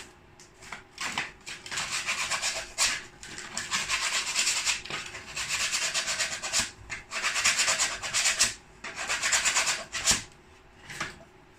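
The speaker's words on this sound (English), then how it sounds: "Take the sandpaper and remove the wood chunks, like that." Sandpaper scrubbed by hand over wood to clear rough chunks from a wooden frame being built, heard as steady raspy strokes in repeated close bursts with brief pauses, with no talking.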